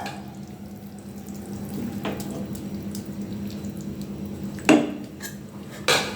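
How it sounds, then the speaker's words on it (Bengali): Water pours steadily into a pan of braised boal fish curry, a soft continuous splashing, followed by two sharp metallic clanks of cookware near the end. "এবার আমি এতে পরিমাণ মতো ঝোল দিয়ে দিচ্ছি।"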